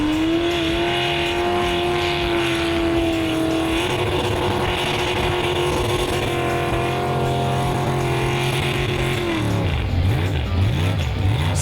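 Trucks at a mud bog race rev hard through a muddy pit, engines droning loud and continuous with pitch climbing, then shifting and dropping as they churn along.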